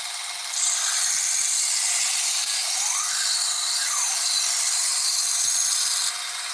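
Knife blade ground on a belt sharpener at a sharpening shop in League City, Texas: a steady high-pitched whirring grind lasting several seconds, pitch shifting as the edge is drawn across, no talking.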